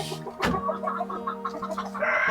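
Hens clucking and murmuring in a steady chatter in a nest while laying, two crowded in one nest, with a sharp squawk partway through and busy barnyard background noise on a farm in the Appalachian Mountains.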